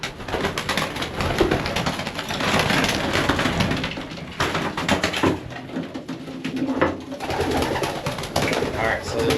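Racing pigeons cooing inside a loft, soft repeated coos set against a busy, noisy background, with someone talking over them.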